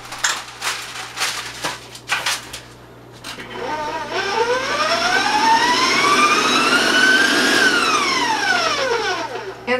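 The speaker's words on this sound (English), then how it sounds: "And then just beat that till it's all combined." Electric mixer beating sugar cookie dough made with gelatin, a loud steady motor whine that rises and falls in pitch as the speed changes, running continuously after a few seconds of clatter at the start.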